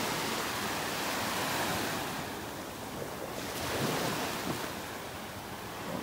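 Ocean waves wash along the shoreline on a North Naples, Florida beach in a continuous roar that swells and eases, with wind buffeting the microphone and no talking.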